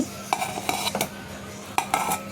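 Salt being stirred into pani puri filling in a bowl, with a spoon clinking and scraping against the sides in a few sharp, irregular taps, close and fairly quiet, with no voices.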